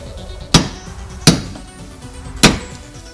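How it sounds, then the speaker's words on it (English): A sledgehammer strikes old wheel studs out of a car hub, three sharp metallic blows spaced unevenly about a second apart, loud and close with brief ringing decay. "you're gonna need a sledgehammer for this part. You gotta knock the old studs right out the side"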